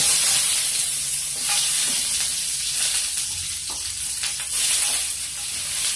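Ginger sautéing in a pan for pork pata adobo, a steady loud sizzle with crackling pops and occasional stirring scrapes throughout, no voices.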